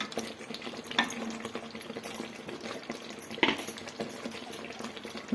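Water being poured into fried mutton sambar masala in a pot, a soft liquid splash and bubbling with a few clinks, fairly faint and close with no talk.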